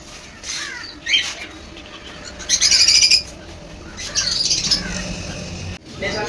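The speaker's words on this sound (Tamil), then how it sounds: "இந்த கிளி டிஃப்ரெண்ட்டாக இருக்கு." Several parrots in a pet shop chirp and squawk in short bright bursts, with two louder squawking outbursts close by over a busy indoor background.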